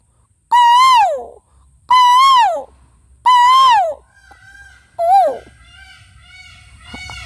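A man imitates an Asian koel, whistling its rising-falling call three times in a steady rhythm, then a fourth shorter call, loud and close.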